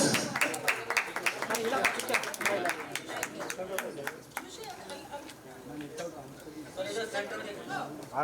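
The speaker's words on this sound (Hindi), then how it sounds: "पहले तो पाजी के लिए तालियां।" An audience claps together through a dense patter of applause that fades and swells, while voices talk over it throughout.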